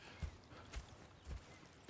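Horse hooves in Red Dead Redemption 2 clop faintly in a slow, steady walking rhythm, four soft dull hoofbeats over quiet background ambience.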